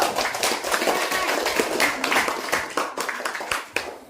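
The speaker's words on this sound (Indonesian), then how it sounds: "Kasih tepuk tangan untuk kelompok 1" In a classroom, pupils clap for a group that has just presented, a lively mix of individual handclaps with distinct sharp hits, fairly close, tapering off near the end.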